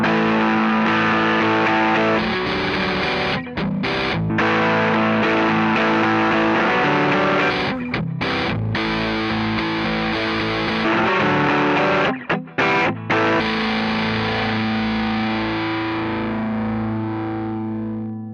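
Distorted electric guitar riffs play back to back through a real amplifier and then an amp simulator, heavy gain and chorus-like effects, loud and continuous with only brief gaps between phrases.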